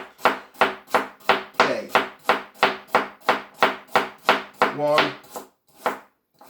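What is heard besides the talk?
knife slicing carrot into thin discs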